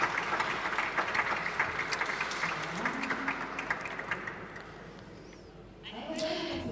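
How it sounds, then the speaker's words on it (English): Applause at an awards ceremony for a panel, a crowd clapping steadily that thins and fades toward the end, with voices rising over it in the final seconds. "another applause for our panelists"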